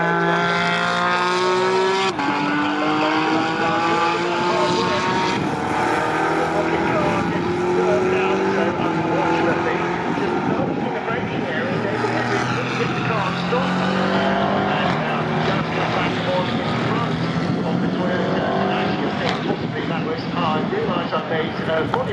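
GT4 race cars, McLarens among them, battle wheel to wheel at Silverstone, engines roaring loud and continuous with rising and falling pitch as gears shift, under steady commentary.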